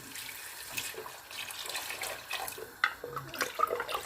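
Stock poured into a cooking pot while making goto, a Filipino rice porridge, giving a steady, close liquid splashing and trickling with small clinks of the pot.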